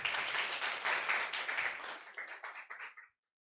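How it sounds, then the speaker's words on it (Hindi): A church congregation bursts into loud, hearty applause that thins into scattered claps and stops abruptly, followed by silence. "एक बार जोरदार ताली प्रभु के लिए।"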